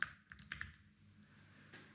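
A handful of quiet keystrokes on a computer keyboard as a song title is typed, soft scattered clicks near the start and a last tap toward the end over faint background noise, with no one speaking.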